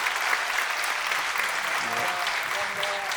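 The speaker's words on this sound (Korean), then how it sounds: "네, 박수 주십시오." A short stretch of steady crowd applause at a traditional performing arts event, even and continuous, with a faint voice underneath.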